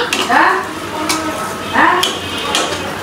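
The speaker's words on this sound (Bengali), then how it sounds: "শুটকিটা কিন্তু একদম অল্প আছে ভেজে নিয়েছি" Dried fish (shutki) frying in a pan, with a steady sizzle broken by repeated stirring scrapes and faint clinks of a spoon against the pan, close and fairly loud.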